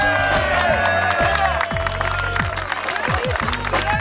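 Audience at a Pyrenean folk singing gathering in Barèges applauding a singing couple, with loud continuous clapping and some cheering close by, thumps and voices mixed into the dense crowd noise.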